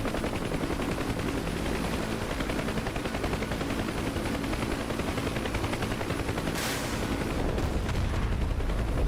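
Sustained, dense artillery barrage and rapid gunfire in the DCS UH-1 Huey helicopter combat simulator, a loud continuous rumble with crackling bursts throughout and a sharper blast near the end.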